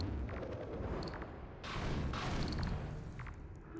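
Gunfire in the video game Half-Life 2 Episode One: dense, loud overlapping bursts and booming shots roll on continuously with little pause.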